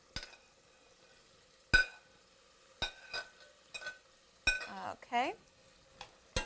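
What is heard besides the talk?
sautéing celery, olives and capers in tomato sauce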